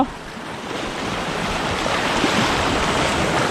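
Strong ocean waves surge against a rocky shore on a fishing trip, a continuous loud wash of surf with wind noise and no talking.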